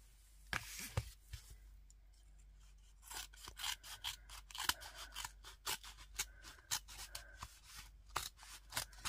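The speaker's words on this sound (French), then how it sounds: "je vais découper ce qui dépasse" Scissors snipping off excess paper while crafting a binder from recycled materials: a quick series of crisp, close snips and rustles that starts sparse and grows into a busy run of cuts, with paper scraping in between.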